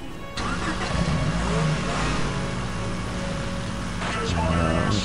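A car engine in UT2004 starts up and revs loudly, holding a strong mid-pitched drone that rises again near the end, with a voice faintly present.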